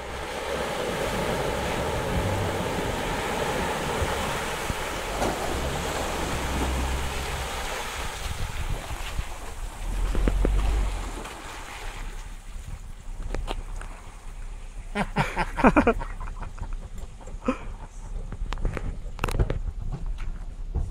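A Jeep Wrangler pushes through a creek, its engine and rushing, splashing water forming a loud continuous wash that thins into scattered splashes and knocks toward the end, with wind buffeting the microphone.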